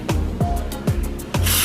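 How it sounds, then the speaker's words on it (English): Baker's Joy flour baking spray is applied to a Nordicware Bundt pan in short, loud, close hissing bursts, several quick sprays in a row and a longer one at the end. "We're gonna be covering this with Baker's Joy. You guys know Baker's Joy is a baking spray that has flour in it."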